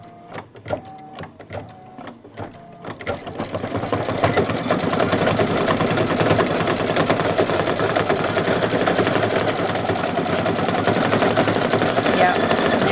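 Embroidery machine sewing a lock stitch on a Santa table runner, starting with a few separate needle taps, then settling into fast, continuous rattling stitching that stays loud and steady to the end.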